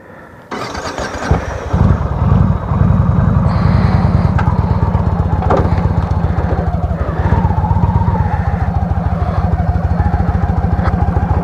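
An Indian Springfield Dark Horse motorcycle engine starts up close and settles into a loud, rhythmic low idle, with a brief rev partway through.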